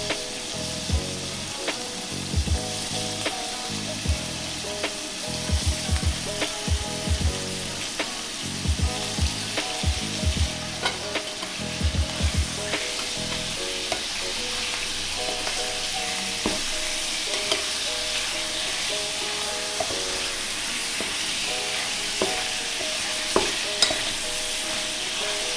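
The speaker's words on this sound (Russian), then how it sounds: "Обжариваем на раскаленной сковороде до появления румяной корочки." Meat for a Kalmyk dish fries in a hot pan, with a constant sizzle and repeated clattering stirs through the first half, then settles into steady frying with only occasional taps.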